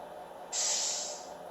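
An RC truck sound module plays an engine shutdown with an air brake release, a single sharp hiss that starts suddenly and fades over about a second.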